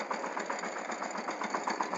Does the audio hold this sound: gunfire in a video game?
no